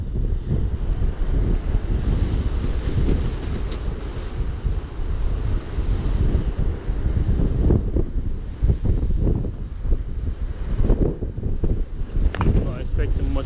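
Rough sea surf pounds the shore at high tide in strong wind, a loud continuous roar of breaking waves with heavy gusts buffeting the microphone throughout.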